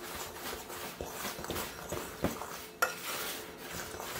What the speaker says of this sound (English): I'm just going to stir to combine this ingredients.